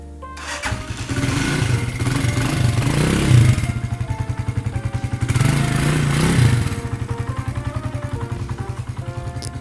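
A 2017 GPX Legend 200 motorcycle starts and settles into a steady, thumping idle, close and loud, with a brief rev in the middle and no talk over it.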